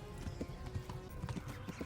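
Horse hooves clip-clop in a steady, fairly quick walking rhythm in the medieval video game Kingdom Come: Deliverance, close and clear over a dense ambient background of outdoor game sound.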